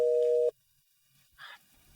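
Phone line busy tone after a call is hung up: a single steady beep for about half a second, then near silence with a faint brief noise.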